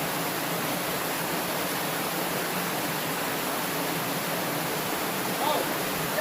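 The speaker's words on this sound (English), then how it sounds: "there's that little waterfall, and here's this little hole of water" A small waterfall in a creek gives a steady, close rushing of water that holds even and unbroken from start to finish, with no voices over it.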